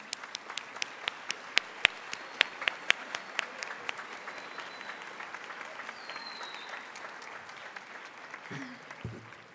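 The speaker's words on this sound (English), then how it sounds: "Let's give another round of applause to Mr. Seeker." A high school Veterans Day audience applauds a veteran guest, with sharp individual claps standing out near the front over a broad crowd applause that gradually thins toward the end.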